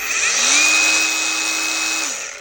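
An Ubay Tools cordless angle grinder spins up and runs at high speed, a loud, steady whine that holds for about two seconds and then begins to wind down.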